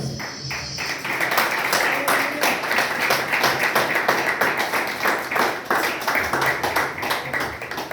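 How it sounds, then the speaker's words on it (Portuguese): A church congregation at a Lord's Supper service applauds strongly, dense rhythmic clapping filling the space at close range, with some voices mixed in beneath. "E bem forte, uma salva de palmas para Jesus"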